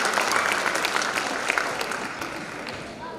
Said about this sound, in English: Give them a big round of applause for their first year in band